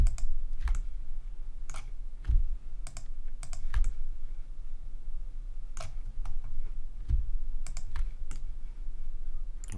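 Computer keyboard keys and mouse buttons click during Blender 3D modeling, sharp irregular clusters of taps over a steady low hum, close by, with no voices.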